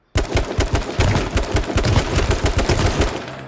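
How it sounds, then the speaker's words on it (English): Rapid automatic gunfire from a battle royale video game, H1Z1 or PUBG: loud, close bursts of shots in quick, steady succession that run almost unbroken for a few seconds, with no talking. "You can see where my bullets are hitting the ground."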